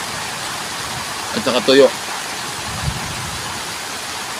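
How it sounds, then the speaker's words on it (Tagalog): Steady rain falls outdoors by a river mouth among large dead trees, a constant dense hiss throughout, with someone briefly speaking over it partway through. "Umuulan ba naman"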